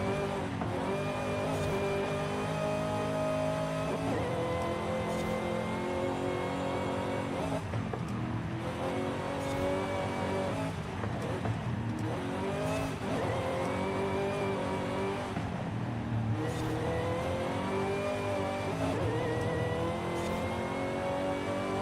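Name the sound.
500 horsepower Torrento car engine revving in video game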